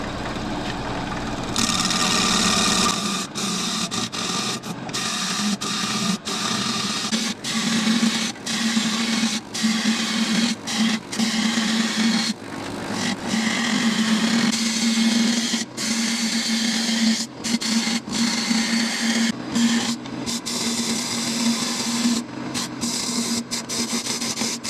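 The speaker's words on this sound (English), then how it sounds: "I think I actually will use my roughing gouge just because this is a very large piece" A wood lathe spins a very large piece while a roughing gouge cuts it, giving a steady loud motor drone with a tonal whine and a continuous scraping hiss. Short gaps and catches break the cut at intervals, and no one speaks.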